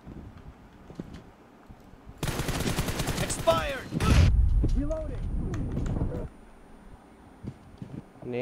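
Rapid automatic fire from an M762 rifle in PUBG Mobile rattles in a sustained loud burst through the middle of the clip, with mechanical clicks and scattered game sounds before and after, under someone talking.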